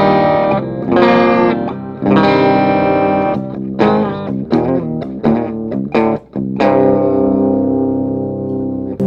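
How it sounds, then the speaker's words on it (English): An electric guitar played through the clean channel of an amplifier with no effects, strummed in sustained ringing chords and short choppy stabs, loud and close with a bright, harmonically rich tone. "this is the clean channel with nothing on it"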